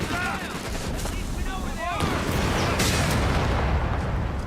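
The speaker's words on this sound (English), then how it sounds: "Grenade assault from the Stoßtruppen will do a little bit of damage." A grenade assault by Stoßtruppen in Company of Heroes 3, heard as continuous battlefield rumble with explosive bursts and gunfire layered together, dense and loud throughout with a voice briefly audible.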